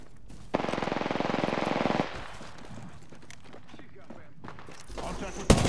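Rapid automatic gunfire in a shooter video game rattles loudly for about a second and a half, followed by quieter in-game ambience and a sharp burst near the end.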